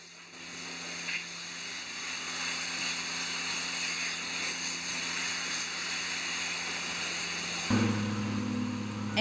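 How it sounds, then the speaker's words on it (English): Compressed air hose blasting debris out of the seams of a historic wooden ship's hull: a steady, loud rushing hiss that holds throughout, with a lower machine hum shifting near the end. "a compressed air hose run along the hull just blasts out anything that"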